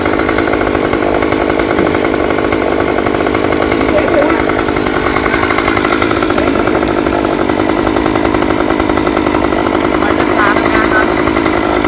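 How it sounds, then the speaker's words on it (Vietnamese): A chainsaw cutting trees drones continuously at high revs, steady and loud for the whole stretch, its buzzing tone never letting up. "lại cưa mấy cái cây nha quý vị"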